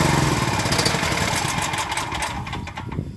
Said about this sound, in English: Starts to struggle like this, that's a sign that it's running out of fuel